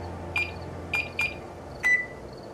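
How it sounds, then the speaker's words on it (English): Four short electronic beeps sound in a video game, two close together in the middle and a slightly longer, lower one at the end, clear over a quiet background hum. "It's totally beeping."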